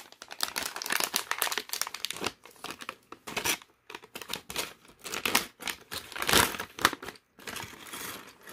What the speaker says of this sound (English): let's go ahead and just rip this thing open and put it together